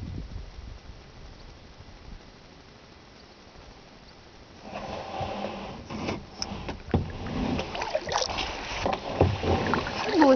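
Kayak paddling on B Lake near a waterfall, starting with a soft, steady background wash, then closer splashing and dripping paddle strokes that grow louder and more irregular in the second half.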